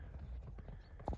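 Draft horses, mares with foals, walking through fields, hooves clip-clopping in a steady uneven rhythm at moderate distance, with a brief louder knock near the end.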